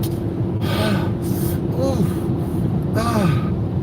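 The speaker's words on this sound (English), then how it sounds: "Breathing all hard." Heavy, labored breathing: a few loud gasping breaths with short pauses in between, close to the microphone and steady in rhythm.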